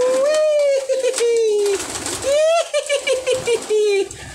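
Pigeons coo in a loft, with two close, clear rising-and-falling coo phrases separated by a brief pause and a few softer bird sounds.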